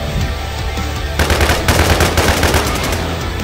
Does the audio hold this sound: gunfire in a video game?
yes